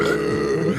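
A single low, drawn-out burp after chugging a drink, loud and close, with no talk over it.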